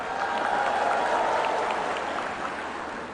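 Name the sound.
audience applause and cheering at event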